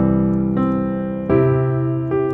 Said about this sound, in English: That's going to be our 2 chord and then our 5 chord resolving to the 1.